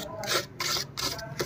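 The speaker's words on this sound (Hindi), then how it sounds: "इसे घिसने के बाद हम इस तरीके से इस पर रेगमाल लगा लेंगे" Sandpaper rubbing against a metal overlock machine looper, several short rasping strokes in steady back-and-forth rhythm, close and fairly quiet with no talk.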